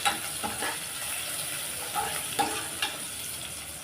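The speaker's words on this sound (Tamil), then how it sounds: "இதை நல்லா வதக்கி விட்டுறலாம் எல்லாத்தையும் சேர்த்து" Chopped coconut pieces are sautéed in a pan, giving a gentle, steady sizzle broken by the scraping taps of a spoon stirring them every second or so.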